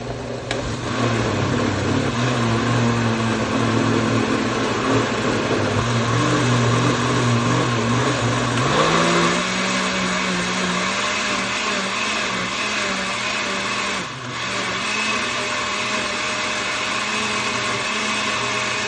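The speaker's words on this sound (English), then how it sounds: "you really want to break up the pulp inside the blender" A blender churns paper pulp with water, a loud continuous motor roar that drops in pitch partway through as the load shifts, running steadily for the whole stretch without talk.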